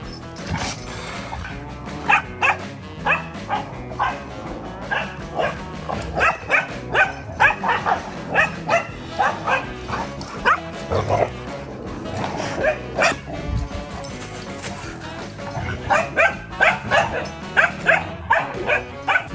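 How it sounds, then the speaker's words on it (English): Four dogs play together, barking and yipping again and again at close range. Bursts of rapid barks come in clusters throughout, with short quieter gaps between them. "I'll just let you watch and enjoy all 4 dogs playing."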